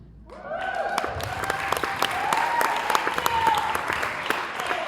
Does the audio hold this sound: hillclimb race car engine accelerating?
no